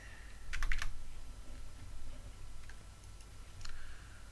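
Code is typed on a computer keyboard in quick bursts of close, crisp key clicks separated by short pauses, fairly quiet overall and with no talking.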